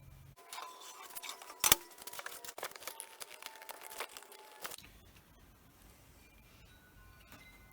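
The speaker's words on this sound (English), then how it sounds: "this cuts out with scissors" Scissors snip steadily through crinkly packing material at close range, a quick run of sharp cuts with papery rustling, then quiet.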